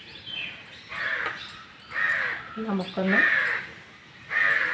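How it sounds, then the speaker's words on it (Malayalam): Crows caw repeatedly nearby in short, harsh calls spaced about a second apart, while someone talks over them outdoors. "എൻ്റെ കാക്കച്ചികളെ ഇപ്പം തന്നെ ഉണ്ടല്ലോ"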